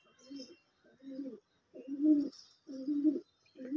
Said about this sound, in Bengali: এই দুটো গোলা লাইনের পায়রা আছে, গোলাগা লাইনের পায়রা।